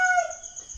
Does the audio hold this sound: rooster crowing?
yes